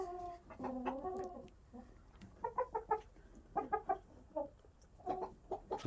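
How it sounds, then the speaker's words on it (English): Inside a chicken coop a rooster gives soft, clustered clucks in short irregular bursts separated by brief pauses, fairly quiet and alone. "Such a nice rooster."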